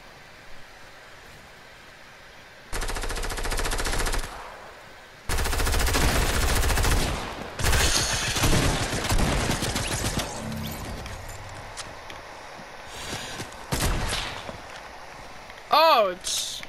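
Bolt-action rifle fire in the Fortnite video game comes as several loud, sharp bursts separated by pauses, with noisy game action and a brief rising whistle near the end.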